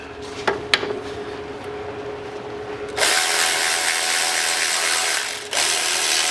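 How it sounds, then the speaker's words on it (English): Ratchet with a 10 mm socket tightening a bolt during an air injector pump and tube job on a 2003–2010 Saab 9-3 2.0t; a few sharp clicks first, then steady loud ratcheting from about three seconds on, close and without talk. "so let's grab a 10 mil. Tighten that bad boy up."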